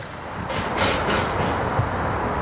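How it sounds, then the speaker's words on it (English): An Edmonton tram car crossing the river over a bridge rumbles steadily with wheel clatter and a few soft clicks along the rails, close and continuous throughout with no talking. "Edmonton tram car spanning the river."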